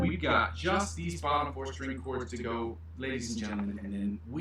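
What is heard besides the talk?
No everyday noises stand out.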